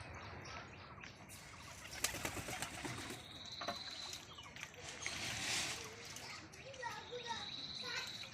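Pigeons bathing in a water dish in the morning, with bursts of wing flapping and splashing, close up, while birds coo and voices murmur faintly in the background.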